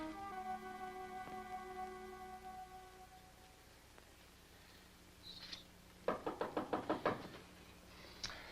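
A locked door is knocked on, a quick burst of about seven firm raps in a row that rings out clearly over a humming background.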